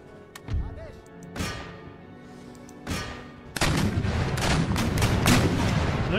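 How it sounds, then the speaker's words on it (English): Musket fire from the battle game Empire: Total War starts as scattered, booming single shots spaced apart. It then swells into a sustained, crackling volley of many overlapping reports. "they've elected to shoot at the center and waste a volley"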